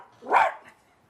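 A voice imitating a dog, giving one short, close, fairly loud bark-like sound with no other talk around it.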